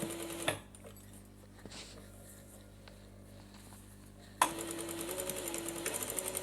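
Sewing machine running in bursts while stitching the side seams of a pair of trousers, a loud steady whirring motor start and stop near the start and again after a long pause, clicking handling noises between.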